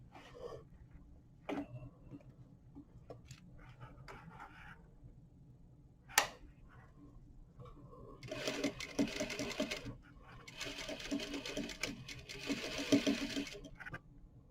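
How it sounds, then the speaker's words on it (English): A sewing machine top stitches a fly front sample on a number 3 stitch, with short stop-start runs and then two longer fast whirring bursts, plus a few clicks and handling knocks. "I'm top stitching on a number 3 stitch, making sure I pull out my pins"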